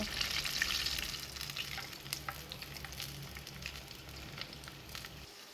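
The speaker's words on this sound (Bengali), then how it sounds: "এভাবে করে সম্পূর্ণ ইঞ্চগুলি আমি ফ্রাই করে নেব" Chicken pieces deep-frying in hot oil for a Naga chicken recipe, a steady dense sizzle with crackling bursts throughout, fairly close and even, without talk.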